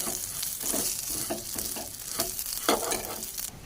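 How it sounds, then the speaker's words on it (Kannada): Vermicelli frying in a pan until reddish for a milk payasa, giving a steady, close sizzle with soft stirring scrapes running throughout and no talking. "ಕೆಂಪಗೆ ಫ್ರೈ ಆಗುತ್ತೆ, ಅಲ್ಲಿವರೆಗೂ ಹಾಕ್ಕೊಳ್ಳೋಣ."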